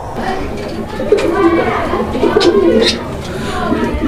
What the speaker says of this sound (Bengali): শুরুতেই আপনারা দেখলেন অনেক চমৎকার এক জোড়া গররা কবুতর